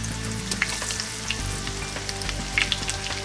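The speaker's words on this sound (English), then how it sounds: "Couple more pieces in the pan." Macadamia nut-crusted snook pieces frying in a hot pan, a steady close sizzle with a few small pops and crackles and no talking.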